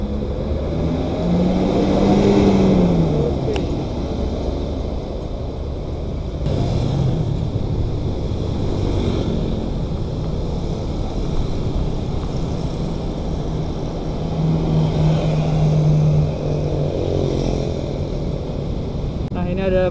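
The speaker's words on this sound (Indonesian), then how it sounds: "ini ada bis Eka cepat dengan variasi yang sangat meriah" An Eka Cepat intercity bus passes on an Indonesian roadside: a loud, continuous engine rumble swells as it nears and stays heavy for a long stretch amid ongoing traffic noise.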